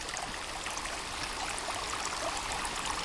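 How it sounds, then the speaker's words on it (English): A babbling brook in the survival video game Sons of the Forest gives a loud, continuous rush of trickling, gurgling water with no voices. "This babbling brook is really loud."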